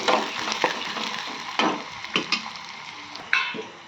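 Chopped onions frying in a pan, giving a continuous sizzle with several sharp stirring scrapes and taps from a utensil, close and moderately quiet.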